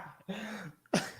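A man does a single sharp cough right after a short vocal sound, mimicking the cough a doctor asks for during a male physical exam; close and fairly loud.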